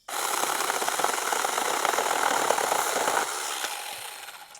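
A TomyVic 6-inch mini chainsaw cuts through wood, a steady, close buzzing rasp that runs continuously for about three seconds before winding down.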